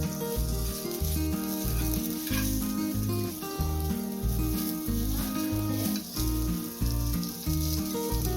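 Wheat opputtu, a sweet flatbread, sizzles and fries on an oiled pan with a steady crackle beneath prominent background music; no talking.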